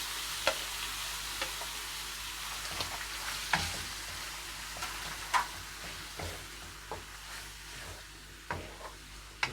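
Chicken pieces frying in a hot pan, a steady close sizzle broken by scattered pops and utensil clicks, with no talk.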